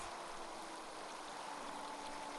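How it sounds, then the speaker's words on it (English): A waterfall in the video game Blind Quest roars as a steady, dense rush of falling water, constant and even throughout the short clip. "The roar of the waterfall reminds Nathan of his training."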